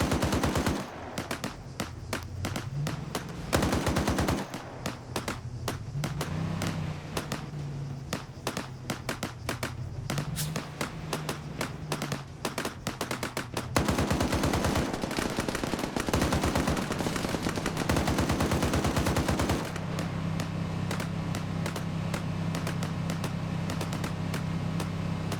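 A .50 cal machine gun fires in a video game, long, loud, rapid bursts hammering almost without pause, broken by short gaps, with engine drone underneath.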